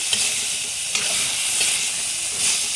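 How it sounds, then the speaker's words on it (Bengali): Dried fish fry in hot oil in a pan, giving a steady, close, bright sizzle with faint stirring clicks and no voices. "শুটকিগুলো ভেজে নিচ্ছি।"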